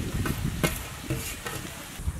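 Onions frying in hot oil for a crispy sweet corn dish, sizzling steadily while a spoon stirs them with several scraping clinks.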